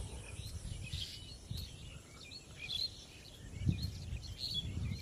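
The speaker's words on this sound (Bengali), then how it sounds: "সকালের কিচিরমিচির পাখিরা ডাকছে" Morning birds chirp outdoors in an open field at dawn, with scattered faint tweets and calls over a soft steady background of insects and low rumble.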